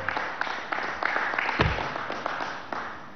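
An audience at a children's cardiology hospital anniversary celebration in Venezuela applauds with steady, dense clapping throughout, with no voices over it.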